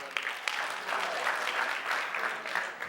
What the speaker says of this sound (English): Can we give Bernie a round of applause?